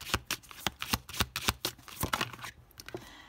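Tarot cards being shuffled by hand, a quick run of crisp riffling slaps and flicks in an uneven rhythm, close and fairly quiet, ending with a few softer taps.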